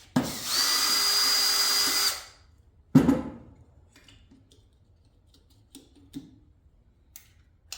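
A power drill backs bolts out of a large electric motor being scrapped for copper: one loud whirring burst of about two seconds, then a sharp clunk and scattered light clicks and taps.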